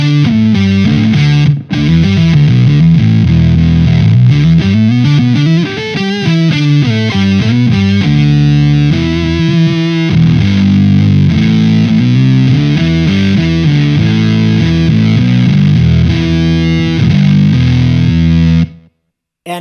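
An electric guitar on the neck pickup runs through an MXR Sub Machine octave fuzz pedal with the sub octave about halfway up, playing a long stream of thick, buzzy, fuzzed single-note lines, loud and close, ending abruptly.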